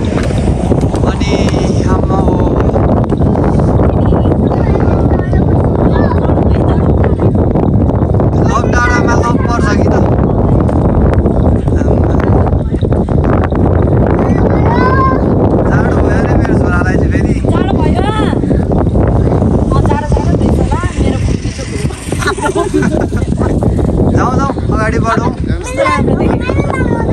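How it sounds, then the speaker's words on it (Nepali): Cold wind gusts steadily on an uphill hill road on the way to Ilam, a loud, continuous rush buffeting the microphone for the whole stretch, with voices faintly audible beneath it. "चिसो हावा सर चलिरहेछ"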